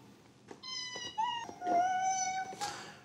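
Synthesized cat meows from the Nintendo Labo Toy-Con piano in a video game, a quick series of tonal, musical meows played like piano notes, clear and close with no talk.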